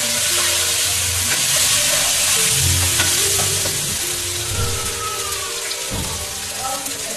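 Crushed red chili and turmeric fry in a pan for savory seviyan pulao while a spoon stirs them. Loud, close, continuous sizzle with scraping strokes and a faint voice in the background.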